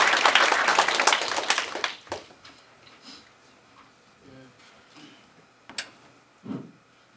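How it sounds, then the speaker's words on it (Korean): Audience applause at a Korea University KU-KIST graduate school degree ceremony: dense, loud clapping from a crowd that fades within about two seconds, followed by a few scattered late claps in a quieter hall. "박수로 맞이해 주시기 바랍니다."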